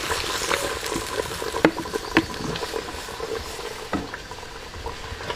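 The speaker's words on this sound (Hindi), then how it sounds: "तो प्याज को सुनहरा होने तक भून लेंगे।" Onions fry in cooking oil in a wok with a steady close sizzle and crackle, broken by a few sharp taps and spitting pops.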